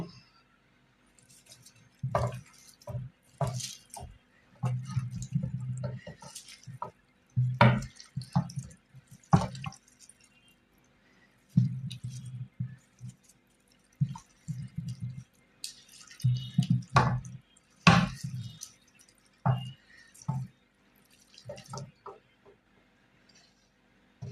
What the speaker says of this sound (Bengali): এখন আমি মশলা মশলা মাখানো মাংসটি মাখিয়ে নেব